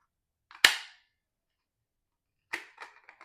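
A Microtech Socom Alpha Mini knife snaps into its carbon fiber sheath with one sharp, crisp click, followed a couple of seconds later by a cluster of lighter clicks and rattles in an otherwise quiet room.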